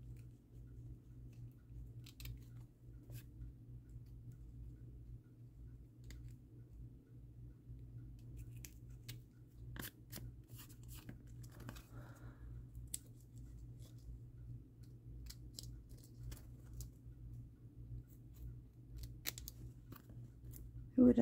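Small scissors cut out a paper tag, giving quiet, sparse snips and clicks scattered irregularly over a low steady hum in a near-silent room.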